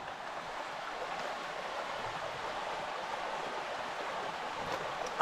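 A river in Serbia flows beside a tent during a rainstorm, producing a steady, even rushing wash that continues unbroken throughout, with no voices.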